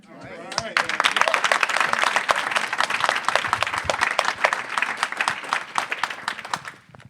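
Audience applause at a live-streamed panel event for foundations financing construction careers, a dense burst of many hands clapping that rises quickly, holds steady for several seconds and fades out at the end.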